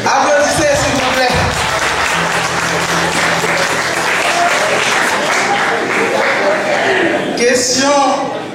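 A loud, sustained wave of audience applause fills a live quiz-show final in Paris and stays dense for several seconds. Voices and a brief chuckle come through underneath, and the applause swells again near the end.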